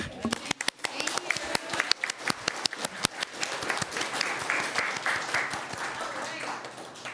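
An audience at a school district board of education meeting claps in a dense, lively burst of many hands, the pattering thinning slightly toward the end.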